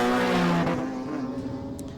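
A historic Charger touring race car at a Winton race meeting roars past at high revs, its engine note dropping as it moves away and fades over two seconds.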